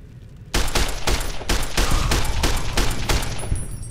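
Rapid bursts of gunfire in the post-apocalyptic video game Fallout: New Equestria, a loud, dense volley of repeated shots lasting several seconds with no talk over it.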